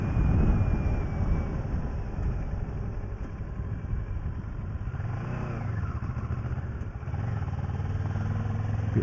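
A motorbike rides along a road on the A3 near the Hindhead Tunnel. The engine drones steadily under wind buffeting, and partway through its note dips and rises again, as at a gear change.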